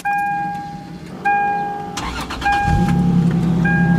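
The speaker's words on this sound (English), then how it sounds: "I'm gonna give you guys a little cold start from the inside" A car engine cold-starts with a DIY blast-pipe exhaust, heard from inside the cabin: a loud crank catches into a rough, droning idle, with a steady high whine from the cabin running throughout.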